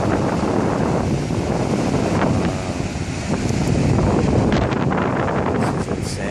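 High lake waves crash and wash at Miller Beach while strong wind roars across the microphone, a loud, continuous churning rumble with no talking.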